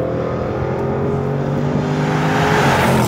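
A Range Rover Sport SVR's engine roars loud and close in a steady high rev, its exhaust giving sharp pops and crackles as the sound swells near the end.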